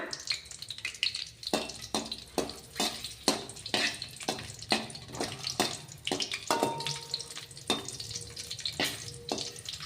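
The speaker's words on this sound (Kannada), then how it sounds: "ಸ್ವಲ್ಪ ಹಸಿಮೆಣಸಿನಕಾಯಿ ಫ್ರೈ ಮಾಡ್ಕೋಣ. ಸ್ವಲ್ಪ ಎಣ್ಣೆ ತೆಗ್ದೀನಿ, ಸ್ವಲ್ಪ ಫ್ರೈ ಮಾಡ್ಕೋಣ." Green chillies frying in a little oil, a crackling sizzle broken by repeated sharp pops and spits at an uneven pace, close and moderately loud with no talk.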